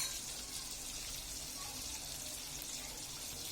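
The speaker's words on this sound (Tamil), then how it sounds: "இப்போ கொஞ்சம் கிளறி விட்டுக்கலாம்." Chicken biryani rice being stirred in a pot with a ladle, a soft continuous scraping and rustling hiss close by with no voices.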